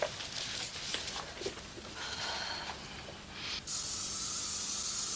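A steady spraying hiss from another room, muffled at first and then turning louder and brighter for the last second and a half, broad and continuous with no voices.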